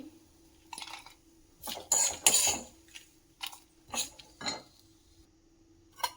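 Roasted chillies being moved from a pan into a mixer jar, heard as a series of close metallic clinks and scrapes in irregular bursts separated by quiet gaps.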